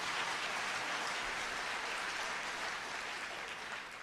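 An audience at a convention hall claps continuously, a dense, even patter of many hands that holds steady and tapers slightly at the end.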